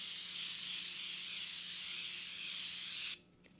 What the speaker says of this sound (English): It's an aerosol can, so you don't have to worry about getting like the dots or splotches of setting spray since it's just a super fine mist.